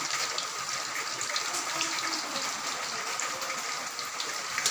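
Garlic sizzling in hot oil in a frying pan for a simple rice dish, a steady, close, hissing crackle that runs unbroken and fairly loud throughout, with no voices.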